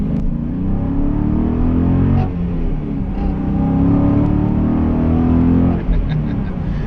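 A 2016 Dodge Challenger Scat Pack muscle car accelerates hard, its low, heavy engine note droning and climbing through gears, close and loud with a brief dip between shifts.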